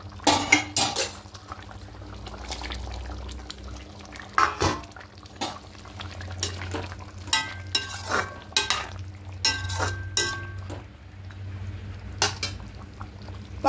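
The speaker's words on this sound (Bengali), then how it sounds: "এবার এখানে পটলগুলোকে দিয়ে দেব।" Pointed gourds stirred into a pot of half-boiled potatoes for a vegetarian curry, with a spoon scraping and clattering against the pot in irregular bursts over a low simmer, close and moderately loud.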